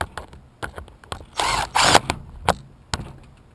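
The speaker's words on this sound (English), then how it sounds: "My drill bit came out, so" Cordless power drill whirring in two short bursts while reattaching parts of a Traxxas Stampede RC truck, with clicks and taps of handling around it, close and fairly loud.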